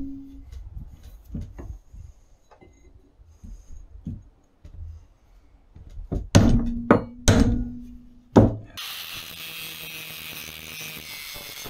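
Metal straps for a boat trailer are bent flat at each end, giving scattered knocks and then a few loud, sharp clanging strikes close by, followed by a burst of broad noise; no speech.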